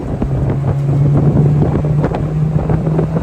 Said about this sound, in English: man, that little engine sounds so good,